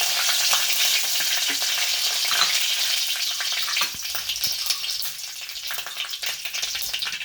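Mustard seeds and curry leaves sizzling and crackling in hot oil in a Kerala-style kitchen, a loud continuous frying hiss with small pops and some stirring, close by.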